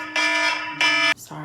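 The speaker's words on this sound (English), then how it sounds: "that's my alarm." A phone alarm beeps in two loud, sustained electronic tones, with someone speaking briefly around them.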